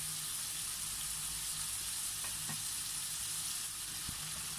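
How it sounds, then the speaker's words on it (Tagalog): Shrimp cooks in a pan, a steady frying sizzle with a few light scraping knocks of stirring close by and no talking. "So ayan, ito na po ang ating hipon. Haluin lamang po natin siya ng konti."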